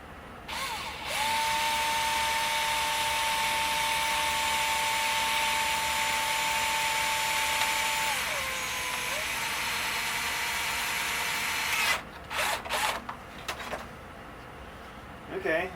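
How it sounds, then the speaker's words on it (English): A power drill boring into a Jaguar door panel, a long steady whine that dips in pitch as it bites, then short bursts of drilling and handling noise, with someone speaking. "I didn't drill it from the back because this is uneven and would have made my drill try to crawl around everywhere"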